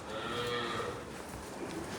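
A cow lowing at a cattle shelter where milking is under way, one drawn-out moo at moderate distance against barn ambience, no talk.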